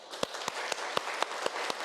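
A church congregation claps in unison, about eight sharp rhythmic claps evenly spaced, moderately loud, with no talking.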